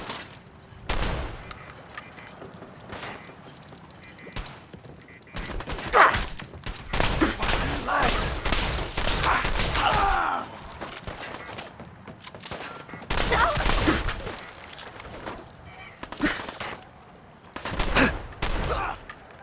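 Bursts of gunfire in Fallout 4, clustered volleys of sharp shots and thuds rising and falling across the stretch, with quieter gaps between and faint talk now and then.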